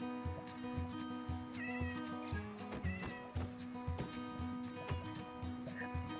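A cat meows in the Minecraft video game, with a few short, fairly faint meows over steady background game music and rhythmic tones.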